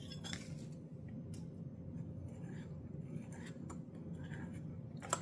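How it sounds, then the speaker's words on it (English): Protein being stirred around in a pot, with a few faint clinks of a utensil against the pot over a steady low kitchen hum. "And let's get this stirred around here."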